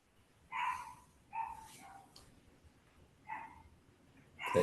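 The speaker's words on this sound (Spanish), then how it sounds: "Ahí hay un perrito que quiere contestar." A small dog barks in short separate yips, about four or five spaced over several seconds, fairly close and alone against a quiet background.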